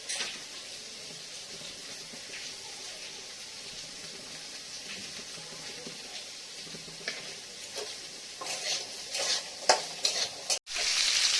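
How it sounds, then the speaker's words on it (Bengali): Pointed gourd pieces frying in a pan in a home kitchen, a steady soft sizzle with occasional stirring scrapes that grow busier and louder toward the end. "পটলগুলো না অল্প অল্প করে ভেজে নিচ্ছি"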